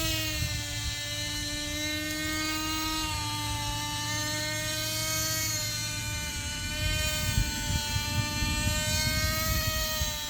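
A Lite Machines model helicopter's small engine runs steadily, a continuous high buzzing whine with a rough low rumble beneath, holding pitch and close by throughout with no talk.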